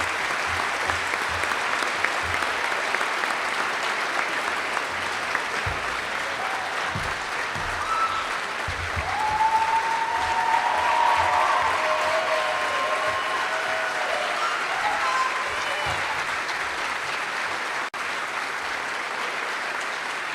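Audience applauding at a high school sports awards ceremony, a dense sustained roar of clapping from a large crowd that holds steady throughout, with faint cheers mixed in.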